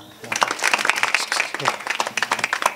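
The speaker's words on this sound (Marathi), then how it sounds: "असं टाळी वाजवा." Audience at a Marathi kirtan for Akshaya Tritiya clapping along in a steady, dense patter, many hands together, loud and close.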